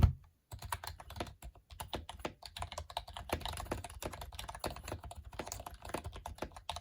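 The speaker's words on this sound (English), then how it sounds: "This is a membrane keyboard, but the keys do sound and feel like linear switches." Fast, continuous typing on a Geodmaer 65% membrane gaming keyboard with linear-feeling keys, close and moderately quiet, a dense patter of soft clacks with no voices.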